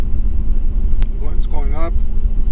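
Car engine revving as it accelerates during an OBD2 scanner test, a steady low rumble rising slightly, with someone talking over it throughout.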